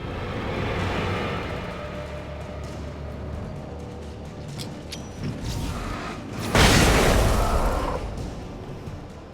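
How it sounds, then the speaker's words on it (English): A flashbang goes off in the horror video game Alan Wake: one loud, broad burst about two-thirds of the way through, rising sharply over a rumbling, mechanical game ambience. "use the flashbang."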